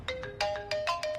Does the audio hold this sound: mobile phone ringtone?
yes